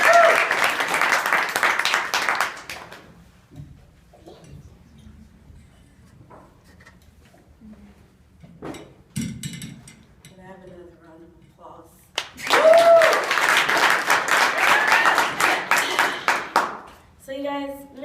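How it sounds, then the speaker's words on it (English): Audience applause and clapping at a live stage show, loud bursts of many hands at the start and again near the end, with quieter stretches of murmuring and stray sounds in between. "please keep your hands clapping for JamJam!"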